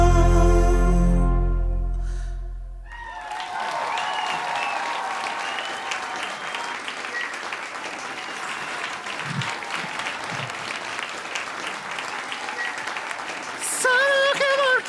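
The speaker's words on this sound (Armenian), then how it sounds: "բարձր ծափարություններ" An audience bursts into sustained applause for performers at a televised singing competition final; the clapping is dense and steady, following the last held chords of the music.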